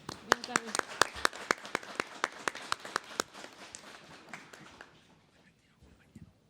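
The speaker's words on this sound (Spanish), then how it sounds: "Le damos un aplauso." Applause at a public hearing on a general water law welcomes the president of a water resources commission, with sharp rhythmic claps from a modest audience that gradually thin and fade after a few seconds, followed by near quiet with a faint trailing sound.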